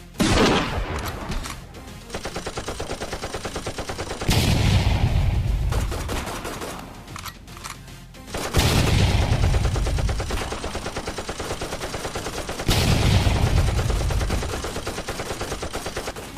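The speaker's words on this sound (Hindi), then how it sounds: "सिपाहियों, गोलियों से छल्ली कर डालो इन्हें, इनमें से एक भी जिंदा नहीं बचना चाहिए।" Loud, rapid automatic gunfire from the Free Fire video game in a short battle movie, coming in long sustained bursts separated by brief gaps, with no talk over it.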